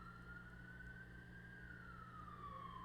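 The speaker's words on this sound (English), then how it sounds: "It's just this ambulance screaming down the road." An ambulance siren wails with a slow rising and falling pitch over a low engine drone, fairly distant and steady, as it speeds down the road.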